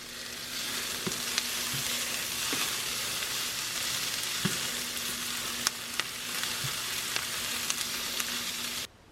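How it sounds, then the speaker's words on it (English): Vegetables browning in a pan for pepper steak, a steady loud sizzle running throughout with occasional soft clicks of a utensil against the pan, ending abruptly. "This is gonna be pepper steak. I'm browning all the vegetables first."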